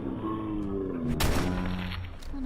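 Gunfire from a headshot in Fallout 4, a loud close crack that bursts across the mix around the middle, set over a steady hum of game music and ambience.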